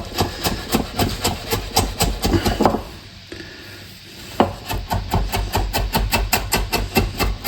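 Rapid rhythmic knife strokes finely chopping ginger on a cutting board, loud and close, with a short pause while the pieces are gathered before the steady chopping resumes.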